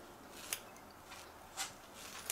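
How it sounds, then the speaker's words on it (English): Curved scissors trim embroidery thread close to stabilizer, giving two or three soft, quiet snips against a faint hiss of room noise. "The curve of the scissors will make sure you don't trim the thread and cut into the stabilizer."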